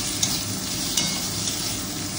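Fish curry with onion, green chili, tomato and tempering cooking in a pan, a loud, steady frying hiss with soft stirring scrapes and a couple of sharper clinks.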